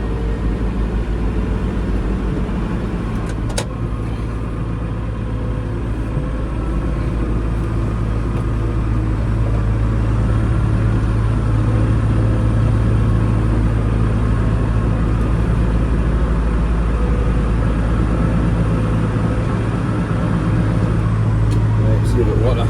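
A car reverses slowly, its engine a steady low hum with a constant drone that stays close and even for the whole stretch.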